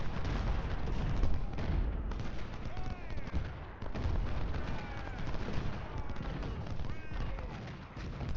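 Cannon and musket fire in the Ultimate General Civil War game, at the Brandy Station battle, as a dense, continuous roar of gunshots and artillery booms. Volleys overlap throughout, loud and sustained.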